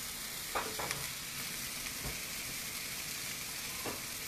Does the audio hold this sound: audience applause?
no